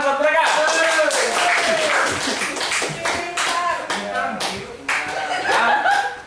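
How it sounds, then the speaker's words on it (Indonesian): Students in a classroom clap for a student group, a busy patter of hands mixed with chuckles and chatter from several voices throughout. "Tepuk tangan buat mereka."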